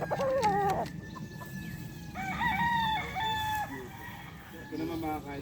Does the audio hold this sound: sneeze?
no